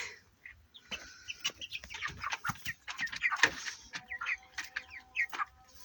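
Several chickens in a poultry flock, fed and watered and settling to sleep, cluck and chirp close by in short, irregular bursts, with quiet gaps between calls.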